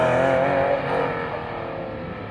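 A Porsche 996 GT3 at an autocross event revs high and whines past, a sustained loud drone that eases off and fades a little as it moves away.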